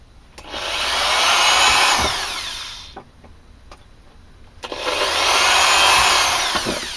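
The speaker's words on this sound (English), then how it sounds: "That's a nice drill." A power drill runs in a home workshop, whining up to speed for about two and a half seconds, dropping away, then spinning up again for a second long burst, loud and close with no talk.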